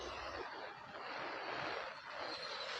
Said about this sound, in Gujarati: આગળ જે વરસાદ વરસી રહ્યો છે